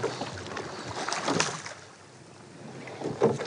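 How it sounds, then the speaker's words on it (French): Water swishes and splashes around a small rowing boat gliding along the Dordogne river, with gusty wind buffeting the microphone and occasional soft knocks. "Juste glisser sur l'eau, cette sensation-là est très agréable."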